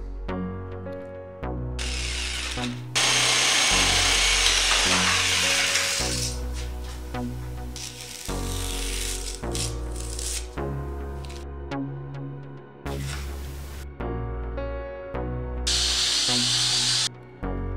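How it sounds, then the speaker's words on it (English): A power drill boring a starter hole, then a jigsaw cutting out an opening while building a benchtop router table. Several loud bursts of whining tool noise stop and restart, with short pauses between cuts. "I'm going to drill a hole just so I can get the jigsaw in here and finish cutting this out."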